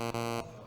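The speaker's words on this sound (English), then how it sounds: "We got some loud beeping noises." A loud, harsh electronic beep holds steadily for under half a second, briefly dipping once, then cuts off sharply, leaving only a faint tail.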